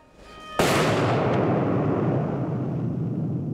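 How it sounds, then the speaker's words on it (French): A single loud gunshot cracks suddenly, then a long rolling echo and rumble decay slowly, as if reverberating outdoors. "l'écho assourdissant d'un coup de feu"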